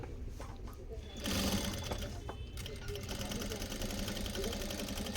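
A sewing machine runs at a steady rapid stitching rhythm as a belt is sewn onto a saree, starting up after a quiet moment and continuing close and loud, with someone speaking faintly underneath.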